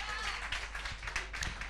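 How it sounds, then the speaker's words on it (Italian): Audience clapping for a karaoke singer on a TV karaoke show at the Colonial, a scattered patter of applause under a noisy room with a low hum. "lei è emozionata, quindi per questo merita un applauso triplo"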